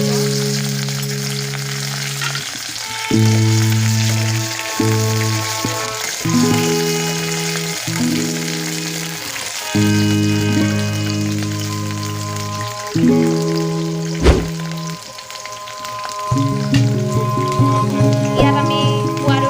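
Okra frying in hot oil in a kadai, a steady crackling sizzle throughout with intermittent stirring, while a low droning tone comes and goes underneath.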